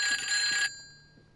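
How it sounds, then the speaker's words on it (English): A phone rings during GTA Online play: a bright electronic ring tone sounding for under a second, then cutting off, leaving quiet game ambience. "I wish we could turn those phone calls off"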